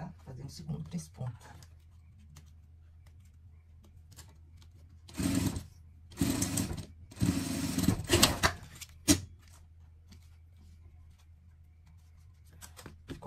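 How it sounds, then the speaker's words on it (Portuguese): Short bursts of a sewing machine stitching a three-step zigzag on a pet harness, several quick whirring runs in the middle, with someone speaking before and after. "Depois a gente tem que vir costurando na peça, tá? Fazer um segundo três pontos."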